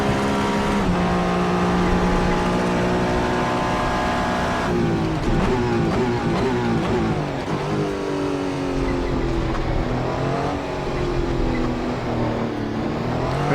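A Le Mans hypercar in the Assetto Corsa racing game, its engine droning steadily at high revs, with gear changes and rising and falling pitch through corners, loud and continuous from an onboard perspective.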